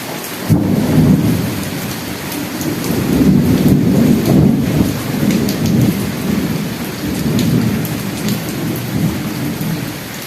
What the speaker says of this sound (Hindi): आज कुछ ज़्यादा ही, आज रुकने का नाम ही नहीं ले रही थी बारिश